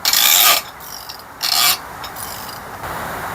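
A stuck, heat-soaked bolt doused in penetrating oil being wrenched loose on a 1991 Honda Civic RT wagon with a D16 engine, two loud grinding ratchet-like rasps separated by quieter scraping, close up.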